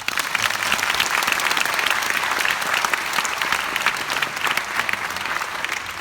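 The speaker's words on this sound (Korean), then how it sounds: "기자분들에게도 박수를 부탁드리겠습니다." Sustained applause for reporters from an audience at a Korean public talk, dense and steady clapping that carries on for several seconds without talk.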